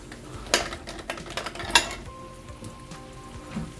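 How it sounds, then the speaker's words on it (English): Potatoes frying in a de Buyer carbon steel pan, a soft, continuous crackling sizzle with a couple of sharp metallic clinks of a utensil against the pan. "frying potatoes."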